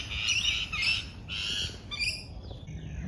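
A wattle bird calls in a backyard garden, loud and close, with a series of harsh, rasping squawks and chattering notes in quick bursts, then quieter fragments as it fades.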